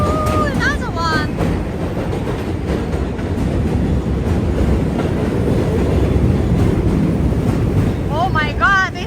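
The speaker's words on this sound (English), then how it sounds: "here's a train is coming from Brooklyn. The new train." A New York subway train rumbles and clatters steadily across a bridge between Brooklyn and Manhattan, loud and close, with wind buffeting the microphone, squealing wheels at the start and end, and people talking nearby.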